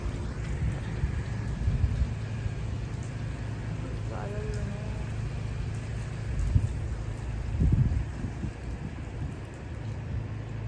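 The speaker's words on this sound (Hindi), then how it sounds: "ये देखें कितनी तेज हो गई है बारिश" Heavy rain pours steadily outside in a city, with low thunder rumbling briefly near the end beneath the constant hiss of the downpour; faint voices may be present.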